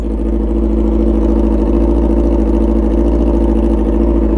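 A Yamaha R6 motorcycle with an open exhaust and no baffle idles loud and close, a constant, harsh, rapid-firing engine drone with no talk over it.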